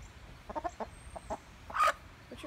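A hen gives a run of short, uneven clucks and one louder squawk while being held and fitted with a hen saddle, close by with faint handling noise in between.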